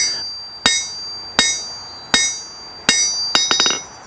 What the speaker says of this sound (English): my hammer is actually going to bounce off the face of the anvil